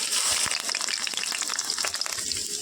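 A large onion sizzles in hot oil in a wok, a loud, even crackling fry with small popping spatters throughout, close by and with no voices.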